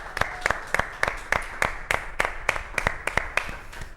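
An audience claps at a live talk event, a steady patter of individual hand claps with distinct sharp strikes, fairly close and continuing throughout without speech.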